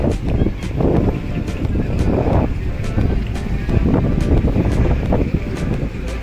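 Gusty wind rumbles loudly against the microphone aboard a moving houseboat in Alappuzha, Kerala, over a steady engine drone, with surges of buffeting and faint water wash.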